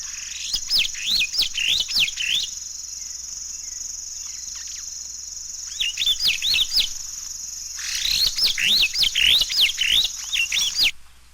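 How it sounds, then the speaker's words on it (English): A superb starling gives pleasant trilled calls in clustered bursts of rapid, warbling notes, close and clear with quiet pauses between, over a faint steady insect-like whine. "This superb starling has a pleasant trilled call."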